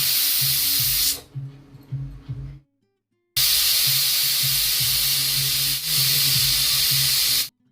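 Pressure cooker venting steam while cooking ridge gourd and tomato curry, a loud, sustained hiss in two long bursts split by a short quiet gap.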